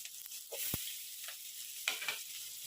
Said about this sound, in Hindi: लवंगा अलैच रखी यहाँ पर देदेवी तापर पियाज छाड़देवी